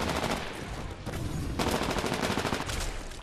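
Titan firing at the player in the video game Titanfall, a sustained loud burst of rapid automatic gunfire with heavy impacts, continuous over the clip.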